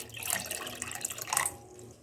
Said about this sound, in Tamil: இப்போ கொஞ்சோண்டு தண்ணி சேர்த்திக்கலாங்க.